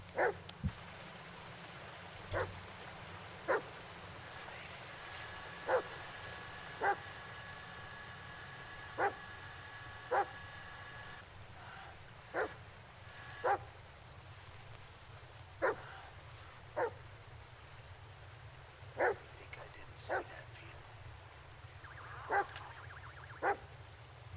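A dog in the Blair Witch video game gives a long run of short, sharp yips and whimpers spaced every second or two over a low steady rumble.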